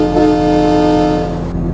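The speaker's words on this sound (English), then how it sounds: "It's a nice train horn." Loud, sustained multi-tone train horn in the American Truck Simulator game, a close chord blast lasting the whole short moment and dropping away at the end, with no talking.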